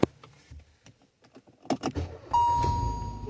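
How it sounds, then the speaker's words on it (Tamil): A car is started after its battery has been charged. Faint keys jangle and clicks come first, then a sudden engine catch sets a steady idle running to the end. "இப்போ காரை ஸ்டார்ட் பண்ணி பார்க்கலாம்."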